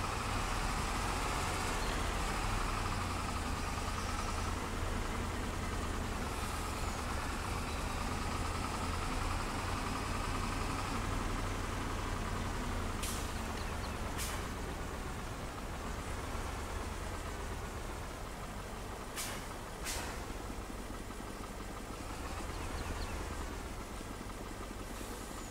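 A truck engine in Farming Simulator 22 hums steadily throughout, a dense, droning rumble with a few brief sharp hisses and clicks breaking through midway, with no voice.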